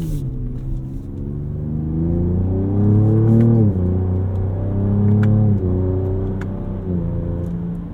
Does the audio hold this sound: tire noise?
yes